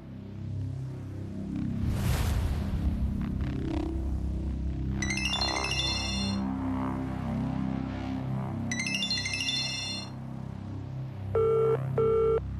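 An electronic phone ringtone chirps in short repeated bursts over a low background hum, followed by a brief steady tone near the end.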